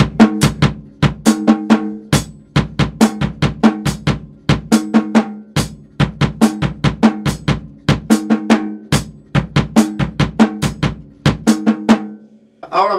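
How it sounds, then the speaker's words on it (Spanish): Steady rhythmic pattern on a snare drum (tarola) in 4/4, a long run of sharp, evenly driven strikes grouped in repeating cells, loud and close, played alone without talk. "el patrón rítmico lo vamos a tocar en la tarola"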